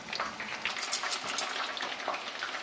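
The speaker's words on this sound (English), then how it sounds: "Continue frying here until we're all done" Steady crackling sizzle of chicken wings frying in hot oil in a wok, with occasional stirring clinks and pops, continuous and fairly close.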